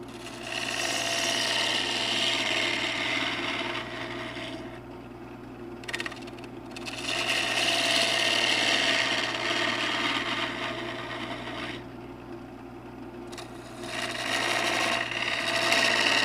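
Wood lathe turning a hummingbird house, a loud continuous whirring hum with rough cutting noise that swells and fades as the tool takes big bites, dropping briefly twice.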